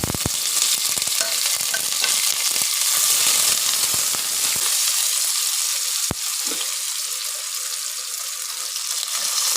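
Onion and spices fry in hot cooking oil inside a pressure cooker with a loud, dense crackling sizzle, close up, while a utensil stirs and taps now and then; the hiss eases slightly partway through.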